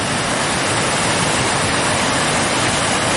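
Cazenovia Creek at Northrop runs high and rushes over a ledge, a loud, close, unbroken roar of churning water with no voices.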